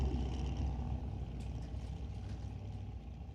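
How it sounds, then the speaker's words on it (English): A drag-racing dragster idles as it is backed up after its burnout at Mission Raceway Park, a steady close, loud low engine rumble filling the whole stretch without break. "Getting the dragster backed up."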